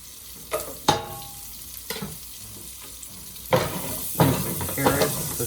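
Vegetables, including carrots, frying for a sausage and veggie ragù: a utensil stirs and scrapes the hot pan in several distinct strokes over a soft background sizzle.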